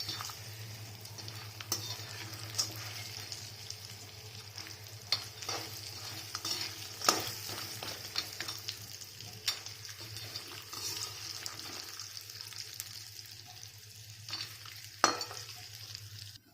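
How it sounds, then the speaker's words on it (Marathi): Finely chopped turmeric root fries in hot oil for homemade garam masala. A continuous low sizzle runs throughout, with scattered stirring scrapes and clicks from a spoon against the pan and no voices. "आता हळकुंडच बारीक करून घेतलेले आहेत आणि ते आता छान तेलामध्ये तळून घ्यायचे आहेत"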